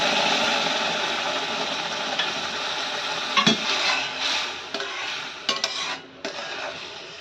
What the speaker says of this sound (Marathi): असं कडकडीत गरम पाणी ओतलं ना की रवा चांगला फुलल्या जातो